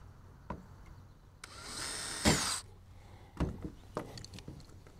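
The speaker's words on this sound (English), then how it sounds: "So I'm going to pre-drill, even though they're self-drilling screws." A power drill whirs up in a short burst, pre-drilling holes for self-drilling screws while installing a truck tailgate ladder, rising to a loud peak before stopping, with clunks and handling noises around it.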